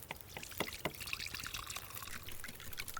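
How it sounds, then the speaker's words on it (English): Water pouring into a cooking pot over a campfire in The Long Dark video game, a faint, steady trickling stream with a few small splashes, heard alone. "let's put another half-liter water on"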